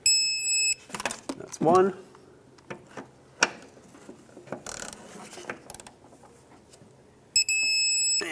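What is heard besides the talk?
torque wrench tightening rear shock mount bolts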